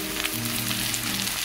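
Onions and salt frying in a pan with golden-brown garlic, for a cabbage and chana dal bhaji, give a steady, close, continuous sizzle that holds evenly throughout with no talking.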